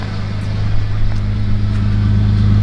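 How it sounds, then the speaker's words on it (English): A Toyota Land Cruiser 80 Series with an aftermarket exhaust idles steadily close by, a loud, even low drone with a faint background hiss. "And as you can hear, all the exhaust coming out the back here."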